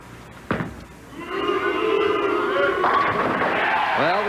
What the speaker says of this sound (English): Well, the crowd yelling Duke.